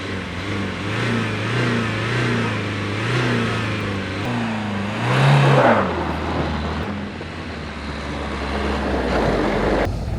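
A car engine revs for a drag race, its pitch swelling and easing in repeated waves before rising to a louder, rougher peak near the middle, then settling into a steady, throaty drone. Close by, with no speech.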